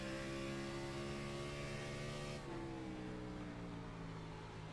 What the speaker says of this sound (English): Sounds like the motor's got pretty good power